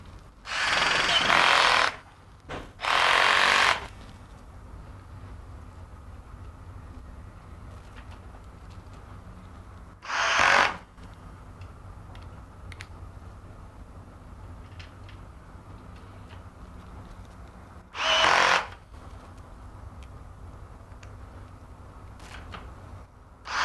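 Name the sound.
power drill driving screws into the foot plates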